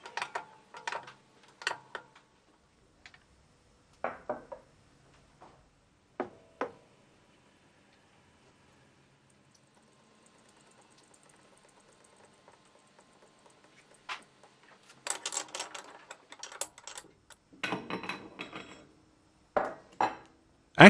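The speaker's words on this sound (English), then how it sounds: "Place the actuator bushings with the O-rings and tighten using the spanner size 27." Metal clicks and ratcheting taps of a size 27 spanner tightening composite actuator bushings with O-rings on an Alfa Laval U7000 unit, sparse isolated clicks early, then denser clusters of close, quiet metallic knocks.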